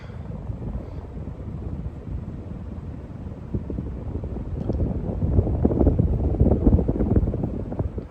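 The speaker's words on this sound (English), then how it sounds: "you can hear some of the lovely little bit of a wind noise there" A Casablanca Panama 5 ceiling fan runs steadily, its blades pushing a broad low whoosh of moving air that grows slightly louder and rougher toward the end, with no voices.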